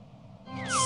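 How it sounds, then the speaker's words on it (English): A cat gives a single rising-then-falling meow, close and fairly loud, standing alone without any talk around it. "Here, kitty, kitty, kitty. I've got some big juicy strawberries for you."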